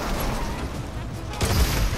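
Bursts of gunfire in the Fortnite battle royale game crackle through a dense, noisy mix, growing louder and heavier near the end, with voices talking over the shooting.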